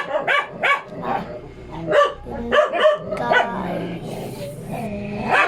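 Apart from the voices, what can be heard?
dog barking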